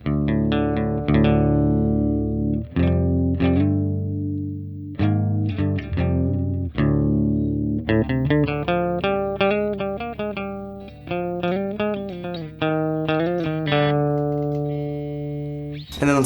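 Electric guitar played through a Stritch OCTPUS octave pedal with the down-octave signal and controls at noon: close, sustained notes and chords with a thick, deep doubled tone, some picked in quick runs, played alone.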